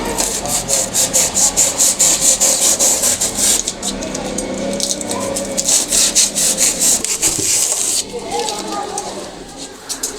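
Cutting a thermocol sheet to make a hole for a pedestal fan rod, heard as a loud, steady back-and-forth rasping saw stroke repeating rhythmically and close up for several seconds.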